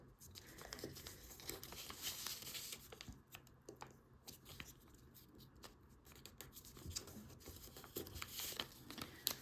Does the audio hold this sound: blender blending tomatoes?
no